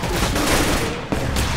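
Dense, continuous video game gunfire fills the whole moment, a loud sustained barrage of overlapping shots with a brief dip before it resumes.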